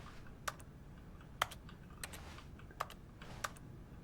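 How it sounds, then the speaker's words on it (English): Computer keyboard key clicks from The Stanley Parable Ultra Deluxe video game, four or five sharp, isolated taps spaced irregularly over a quiet background. "when I hit E, it makes the sound of someone clicking a key at a computer"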